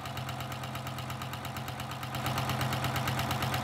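A Juki TL2010Q sewing machine with a walking foot stitches a 3/8 inch seam, giving a steady, fast, even mechanical chatter close up, with no talking.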